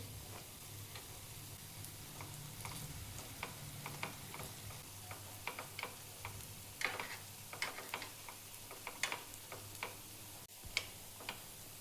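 Sabudana potato vadas shallow-frying in a pan, a soft continuous sizzle with scattered small crackles and pops, faint and steady, no voices.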